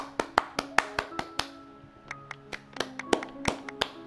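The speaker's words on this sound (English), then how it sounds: "A round of applause, please." A scattering of sharp claps and taps from Genshin Impact, irregular and fairly close, with a faint tonal hum underneath.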